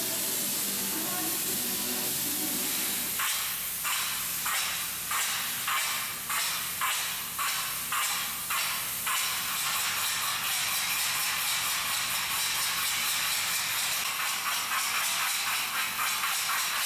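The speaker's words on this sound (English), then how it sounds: "spray foam, we can spray it right around all of the edges and surfaces of the entire ceiling" A loud, continuous hiss of spray foam insulation being sprayed on a brewery freezer ceiling, broken into a rapid series of pulsing bursts before settling into an unbroken spray.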